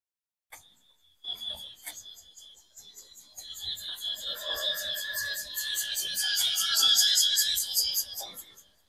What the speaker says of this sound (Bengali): কি পরিমাণে শব্দ, ঝিঝি পোকার ঝি ঝি ঝি ঝি ঝি ঝি ঝি ঝি।